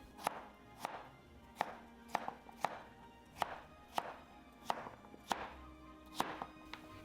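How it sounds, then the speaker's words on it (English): A knife chopping smashed cucumber into half-inch pieces on a cutting board for an Asian cucumber salad, about a dozen crisp, evenly spaced thunks heard close and alone. "Cut it into half-inch pieces"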